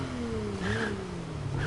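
Game car engine in Need for Speed Heat running with a worse gearbox, a steady droning revving tone that rises and dips as it shifts, continuous and moderately loud with no talk.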